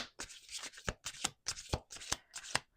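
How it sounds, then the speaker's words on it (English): Tarot cards being shuffled by hand, a run of close, crisp riffling bursts in a steady rhythm with short pauses between them, with no talking. "Last shuffle."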